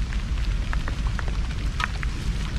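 Steady rain pours outdoors during an evening of drinking, a dense, even hiss of drops striking surfaces with a low rumbling wash underneath, close and continuous, without any voices.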